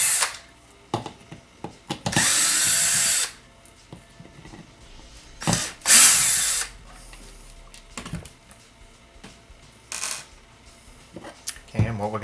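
Screws being taken out of the cap of a 2005 Cadillac Deville heater and AC blower motor, with bursts of a power driver whirring between sharp metallic clicks and small handling knocks, close up.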